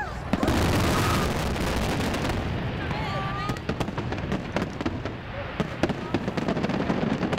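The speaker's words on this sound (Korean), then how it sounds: "연길시에서 준비한 구산 민속절 경축 불꽃놀이를 구경하기 위해서인데요" Celebratory fireworks at an ethnic Korean folk festival in Yanbian, China, burst near a riverside village at night, a dense run of loud cracks and booms that eases into scattered pops with crowd murmur underneath.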